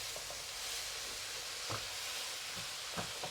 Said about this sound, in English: Basically, you are frying the kangkong until they are soft.